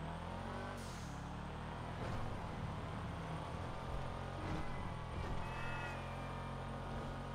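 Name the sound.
Sultan RS car engine in the video game GTA Online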